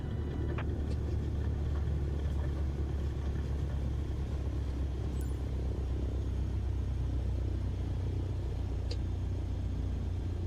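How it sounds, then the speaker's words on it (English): A plane brakes and rolls along a runway in a flight simulator game, a steady low rumble that continues throughout without a break, with no speech heard. "Now apply the brakes to slow us down and bring the plane to a stop."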